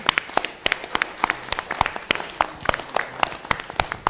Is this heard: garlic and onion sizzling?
no